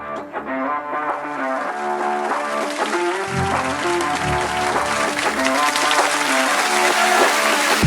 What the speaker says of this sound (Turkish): Yılın Genç Kadın Sanatçısı Ödülünü kazanan Eylül Ergül'ü alkışlarınızla sahneye davet ediyoruz efendim.